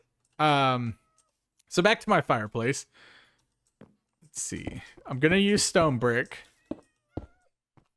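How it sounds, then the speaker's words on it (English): A cat meows twice in Minecraft, each call a short drawn-out mew, while someone talks over the sounds. "let's hope that's a cat and not a creeper"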